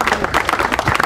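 Audience applause at a public address by the Minister-President of Schleswig-Holstein in Itzehoe: a dense, steady patter of many clapping hands, fairly close and sustained throughout the short stretch.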